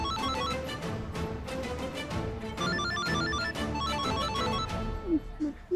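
A telephone ringing in a tense scene from a Hindi TV comedy series: a repeated electronic ringtone melody, loud and close, that plays on without pause over a low background.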